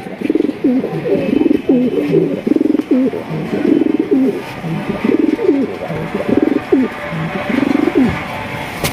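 A large white king pigeon coos close by in a steady run of repeated throaty coos, each rolling call following the last with short gaps between, over faint background hiss.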